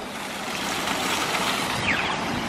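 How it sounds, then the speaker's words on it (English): A water fountain runs with a continuous broad splashing wash, loud and close, and no talk over it. "They have this really cool water fountain here"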